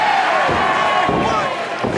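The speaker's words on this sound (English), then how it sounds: "a cheer going up from the audience" Audience at a live MCW High Stakes professional wrestling event, a broad, steady roar of crowd noise swelling into a cheer with a few sharp thuds from the ring cutting through, heard close and loud throughout.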